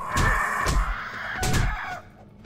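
A bird caws in the 7 Days To Die survival horror game, two loud harsh calls close by, each followed by a short gap, with nobody talking over them.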